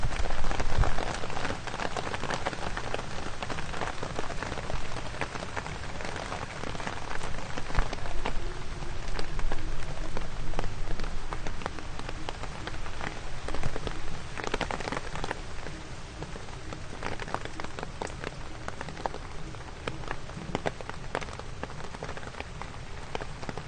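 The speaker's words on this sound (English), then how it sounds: "it's raining" Steady rain pours down on surfaces at Disney's Animal Kingdom in Walt Disney World, a dense continuous hiss of drops with scattered louder patters, close and unbroken, no voices.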